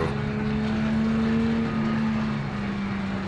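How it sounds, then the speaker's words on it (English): A car in the driving game BeamNG.drive scraping along its underbody as the parts beneath it break apart: a steady, loud grinding drone with a low engine hum running through it, with no talk. "This is the sound of everything underneath my car slowly disintegrating"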